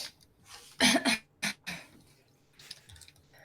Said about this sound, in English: So I have this cough that is treating me terrible.